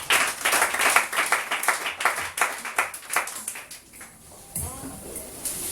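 Church congregation clapping together during a Sunday worship service, a dense run of quick, fairly loud hand claps that thins out toward the end as voices come in.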